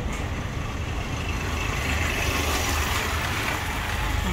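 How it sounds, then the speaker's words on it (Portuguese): Motor traffic on a street in the historic town of Pirenópolis, Goiás, a steady broadband engine rumble and road noise from a vehicle passing close by, with no voices. "Aqui no pedaço passa carro."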